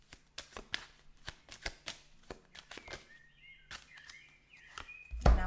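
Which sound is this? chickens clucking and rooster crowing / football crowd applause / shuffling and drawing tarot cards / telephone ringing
shuffling and drawing tarot cards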